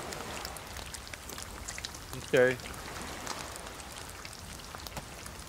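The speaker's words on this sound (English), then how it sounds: "It's starting to rain." Rain falls in the survival game DayZ, a soft continuous patter of drops throughout, with one short spoken word in the middle.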